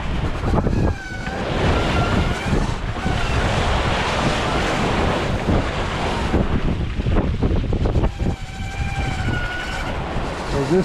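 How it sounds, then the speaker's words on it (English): Big waves crash and surge around a boat at sea while heavy wind roars across the microphone, loud and continuous, with brief whistling tones rising now and then. "This trip's either been dead calm, beating into giant waves, or riding giant waves."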